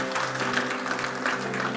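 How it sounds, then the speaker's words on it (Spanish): A church congregation claps in a quiet, steady wash of applause with a faint tonal hum underneath. "Denle ese aplauso fuerte al Señor"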